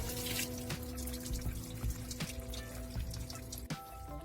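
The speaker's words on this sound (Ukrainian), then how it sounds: "О, грязюка витікає." Dirty engine coolant drains out while a car's cooling system is flushed, pouring and trickling in a steady close stream with a few small splashes and no voices.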